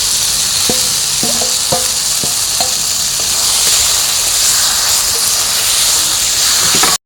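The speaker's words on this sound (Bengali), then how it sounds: "এখন আমি এই ভেজে রাখা মাছগুলো এর মধ্যে দিয়ে দিচ্ছি" Fried kuche fish goes into a pan of partly cooked potatoes and spices, setting off a loud, steady sizzle and hiss, with a few clanks of the spoon early on and continuous frying throughout.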